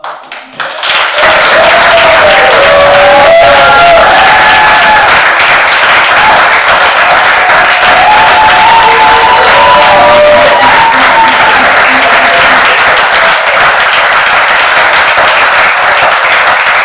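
A live community event audience bursts into sustained applause with cheering, loud, dense clapping that holds steady for many seconds after a brief quiet start.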